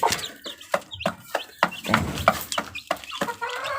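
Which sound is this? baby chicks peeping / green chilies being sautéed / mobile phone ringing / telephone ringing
baby chicks peeping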